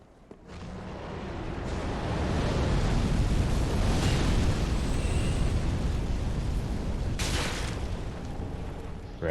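The dragon Midir breathes fire in Dark Souls 3, a long roaring rush of flame that swells up after a quiet start and holds loud and steady for several seconds, with a sharper crackling flare near the end.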